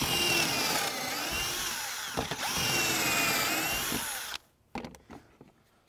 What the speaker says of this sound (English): clamp it in position, and then you drill 2 holes